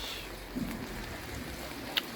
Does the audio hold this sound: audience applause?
no